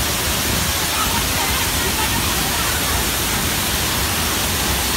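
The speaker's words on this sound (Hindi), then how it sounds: "धनगर वाटरफॉल" The Dhangar waterfall gives off a dense, constant roar of rushing water that fills the whole stretch evenly and does not let up.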